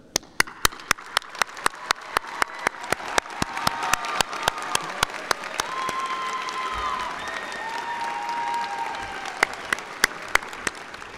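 Sustained audience applause fills an honors graduates' commencement ceremony, steady dense clapping from a large crowd with sharp individual claps standing out, continuing throughout without a break.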